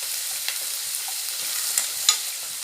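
Onions fry in a pan toward light brown, a steady broadband sizzle with faint stirring scrapes and a couple of sharper clicks, close and alone.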